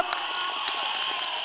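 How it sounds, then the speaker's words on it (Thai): Crowd at a PDRC political rally in central and eastern Thailand cheering and clapping, a dense continuous roar of voices and hands over a short burst. "ขอเสียงปรบมือดังๆให้อีกครั้งครับพี่น้อง"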